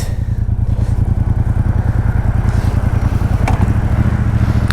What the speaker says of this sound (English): Let's take this bike for a spin.